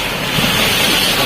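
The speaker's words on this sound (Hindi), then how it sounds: "तूफान हो रहा, तूफान हो रहा, तूफान देखिए।" Storm wind and a swollen, flooding river eroding its banks in Purnia, Bihar, make a loud, continuous roaring rush of wind and water, with buffeting on the microphone and no voices.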